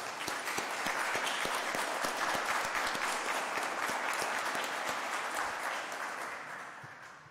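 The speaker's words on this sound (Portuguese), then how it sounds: "Uma salva de palmas, né?" Sustained audience applause at the close of an ordinary legislative session before the holidays, a dense wash of many hands clapping steadily, fading slightly toward the end.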